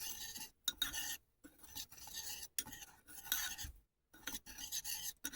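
Gold mica powder being stirred into salt in a bowl: gritty, raspy scraping strokes in short bursts separated by brief pauses, close and quiet, with no talking.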